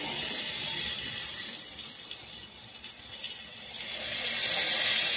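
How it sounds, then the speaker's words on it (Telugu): Water is poured into a pan of beef liver fry cooking with onions, green chillies and tomatoes. A soft, steady splashing rushes throughout and swells louder near the end. "కొంచెం వాటర్ పోస్తున్నాను"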